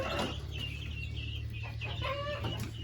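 Guinea fowl being moved and fed mealworms call out with loud, harsh clucking cries close up, several birds overlapping over a steady low hum.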